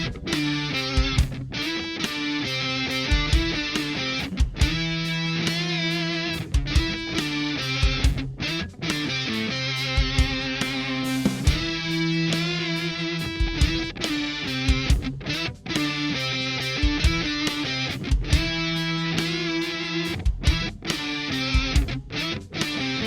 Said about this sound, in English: So moving on to the Super Feedbacker and Distortion.